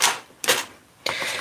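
A die cutting machine feeds a paper craft die through its rollers in three short mechanical bursts of clattering and whirring, with brief quiet gaps between.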